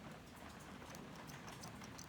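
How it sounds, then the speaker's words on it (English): Steady rain falling outside, a dense, even wash of patter filling the background at a fairly low level throughout, with no voices. "all the rain outside right now"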